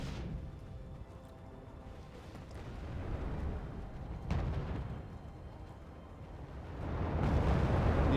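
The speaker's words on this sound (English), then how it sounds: "The LSCRs just getting pounded by AML-60s. Very nice, cheap French artillery piece." Artillery fire from cheap French AML-60 armoured scout cars in the Wargame Red Dragon video game, a low rumbling barrage with muffled booms rolling through, one sharper blast near the middle and a swelling roar at the end.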